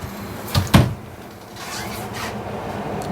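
A small closet door near the front entrance of a 2017 Forest River Vibe Extreme Lite travel trailer opens and shuts with two quick close knocks early on, then quiet room tone, with no voices.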